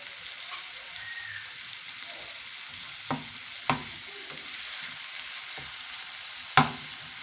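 Beef samosa filling sizzles in a pan over low to medium heat, a steady fry broken by a few sharp clicks and knocks from stirring.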